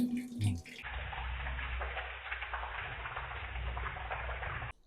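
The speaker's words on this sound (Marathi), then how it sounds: "तर आम्ही बटाटे धुवून घेत आहे." Potatoes are washed in a home kitchen under running tap water, a steady splashing rush of water that continues for several seconds and then stops abruptly, with a brief clatter at the start.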